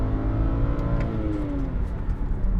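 A 2003–2010 BMW 528i E60 with a six-speed automatic kicks down and accelerates, the engine note rising in a smooth climbing whir heard from inside the car, steady and fairly prominent with road rumble beneath.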